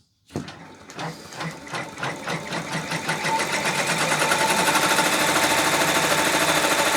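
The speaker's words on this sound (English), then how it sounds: "just one moment and we'll go ahead and start stitching." Embroidery machine stitching a Valentine's Day sweatshirt: after a sudden start, the needle's rhythmic clatter speeds up over a few seconds into a fast, steady, loud mechanical chatter, with no talking.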